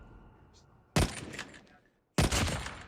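Two sharp bursts of gunfire from the video game Call of Duty Mobile, each a dense, loud volley about a second long, separated by a brief quiet gap over low game background noise.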